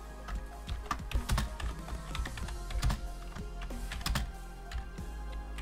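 Quick clicks of typing on a computer keyboard run continuously at close range over a low steady hum, with no talk.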